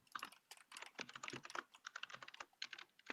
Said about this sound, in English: Somebody's keyboard's noisy.